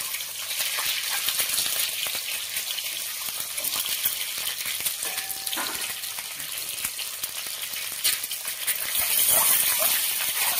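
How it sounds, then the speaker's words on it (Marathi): Boiled eggs frying in hot oil left from frying onions for egg biryani, a continuous dense crackling sizzle that swells louder near the end. "चला आपण हे अंडे तळून घेऊया। पहिल्यांदा तेल गरम आहे"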